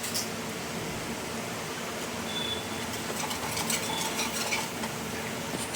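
Kaju gathiya mixture frying in a pan as crushed chillies go in, a steady close sizzle with light stirring and utensil scrapes throughout, no voices.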